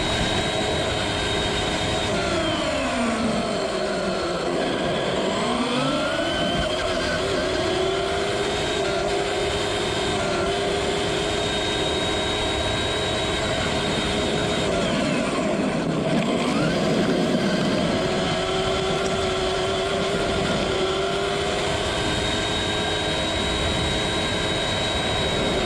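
A Traxxas E-Maxx dual brushed RC truck runs at full throttle through a warehouse, its electric motors giving a steady high whine that rises and falls in pitch with the speed.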